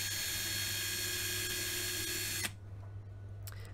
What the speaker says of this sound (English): let's drill out the rivet and see what this model has to give inside